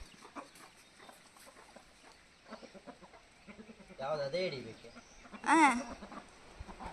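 A chicken clucks and squawks in a couple of short, louder bursts near the end, with quiet background murmur and scattered noises before.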